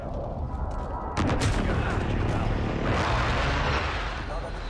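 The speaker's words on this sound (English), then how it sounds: "Precision airstrike." Precision airstrike explosions rumble in a modern war shooter on Xbox One, a dense continuous roar of blasts and gunfire that swells louder partway through and stays heavy to the end.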